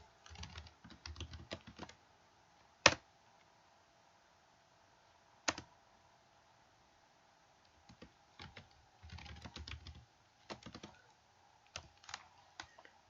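Someone types on a computer keyboard in quiet, uneven bursts of key taps, with a couple of isolated, louder single key strikes between pauses.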